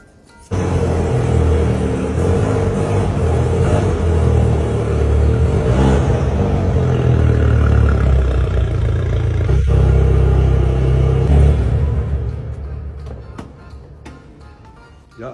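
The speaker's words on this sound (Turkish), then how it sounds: "bu arabada değişik bir egzoz var hocam" A car with an unusual aftermarket-sounding exhaust idles and revs close by, a loud, steady deep rumble with rising throaty surges that holds for about eleven seconds before fading away.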